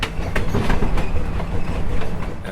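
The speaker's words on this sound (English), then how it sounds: "I hear an eastbound climbing up, so it's always good to be surrounded by trains." An eastbound train climbing a grade, heard with steady rumbling wheel noise and rhythmic clickety-clack over the rails, fairly loud and close, with no talk over it.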